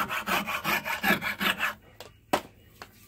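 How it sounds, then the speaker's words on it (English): A rasp works a wooden knife handle by hand, with a quick rhythmic series of close, rough strokes followed by a few isolated scrapes and knocks, and no talking. "if it comes out crooked, I'll take the rasp and square it up."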